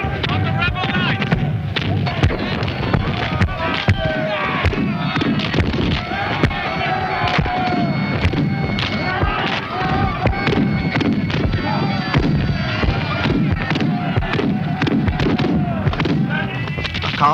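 Cannon firing round shot in a 1746 Culloden battle scene, a rapid series of sharp booming reports and crackling blasts over a continuous din, loud and close.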